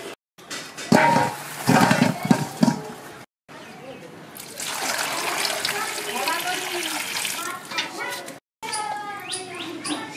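Raw mangoes are washed by hand in water, with splashing and sloshing in several bursts separated by brief cuts, and bird chirps heard nearby in the background.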